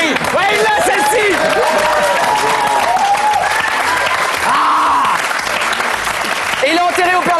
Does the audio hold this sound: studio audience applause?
yes